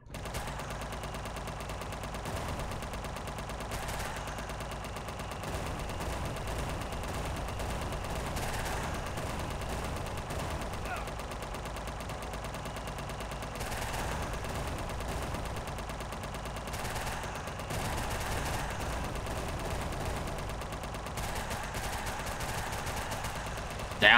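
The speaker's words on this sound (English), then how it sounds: "Try the Zodiac. Machine gun!" Machine gun fire in the video game UnMetal, a steady dense stream of gunfire lasting throughout over a busy game soundtrack.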